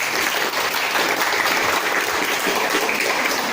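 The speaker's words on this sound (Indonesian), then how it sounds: "Tepuk tangan dulu, tepuk tangan." Classroom applause, a burst of steady clapping from a group of students, close and loud throughout with no talking over it.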